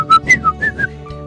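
A child whistling a locomotive imitation, five or six separate shrill, rising whistle bursts in quick succession, loud and close with nothing else heard.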